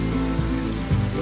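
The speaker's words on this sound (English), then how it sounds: "We're at waterfall number 5 today. And if the rain counts as waterfall" Waterfall and rain in Cairns, Australia, a heavy continuous rushing roar of falling water, loud and close, with low tonal swells woven through it.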